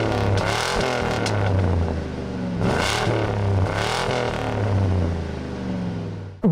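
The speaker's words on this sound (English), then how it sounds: "Take a listen to that exhaust." A supercharged 2002 Ford F-150 Harley-Davidson edition truck with dual chrome-tipped exhaust rumbles steadily, with a deep low drone and a few swelling revs, loud and close with no talking.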